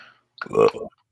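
One burp from a man during a NASCAR podcast, close and fairly loud, a short voiced belch lasting about half a second after a moment of quiet.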